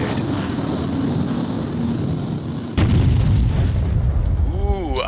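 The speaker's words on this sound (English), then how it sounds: "Ooh, polygon explosions." Heavy rumbling blasts in a Duke Nukem 64 mod for Duke Nukem 3D keep up a continuous roar, then a sharp, louder boom hits midway and is followed by descending game tones.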